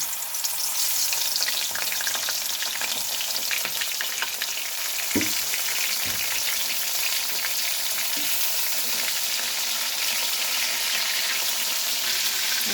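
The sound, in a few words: prawns frying in oil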